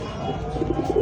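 A Bokhara pigeon, a feather-footed fancy breed kept at a pigeon market, gives a short, soft cooing call, close and brief, over a low background hum.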